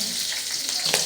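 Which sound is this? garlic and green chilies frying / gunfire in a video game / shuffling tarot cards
garlic and green chilies frying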